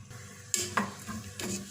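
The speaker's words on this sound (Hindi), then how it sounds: "और इस प्याज को मैंने इतनी देर तक पकाना है कि ये हल्का सुनहरी माइल हो जाए।" Soft sizzling of onions frying in oil in a pan with a few scraping stirs of a spoon, close and fairly quiet.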